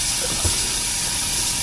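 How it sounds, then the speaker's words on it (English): Air blows back into an airbrush to mix the paint inside, producing a loud, steady hiss that lasts the full short moment with one small bump partway through and no talking. "it will cause a backflow of air in. To the airbrush,"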